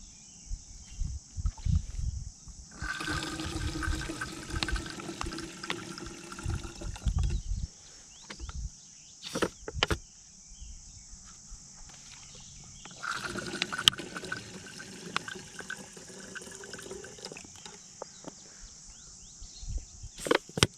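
Water pours in two separate bursts from a squeezed plastic water jug at a riverside campsite, each a splashing gurgle lasting several seconds, with small clicks and handling noises around them outdoors.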